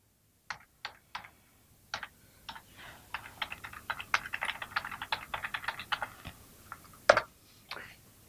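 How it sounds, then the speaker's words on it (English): Computer keyboard being typed on to enter a web address, a few spaced keystrokes then a quicker run of close, crisp clicks ending with a sharper key tap, no speech. "Once you have typed in that web address, you can click Enter."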